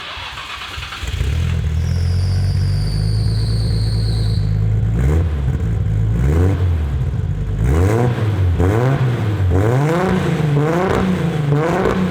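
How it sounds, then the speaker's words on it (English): A Nissan Skyline with a boost leak starts up and idles with a low drone, then revs repeatedly in rising and falling bursts, close and loud. "I did just rev it, to be fair."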